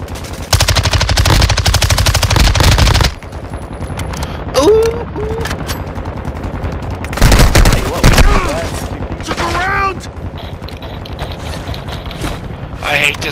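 An automatic gun in Call of Duty MW2 DMZ fires a loud rapid burst up front, followed by further bursts and mechanical clatter while people talk over the action.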